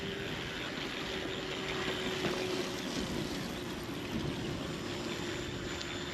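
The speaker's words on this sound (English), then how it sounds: "Motor makes a little noise on initial acceleration" A Zooz electric BMX bike's motor gives a steady, loud whirring hum under broad rushing noise, holding fairly even throughout.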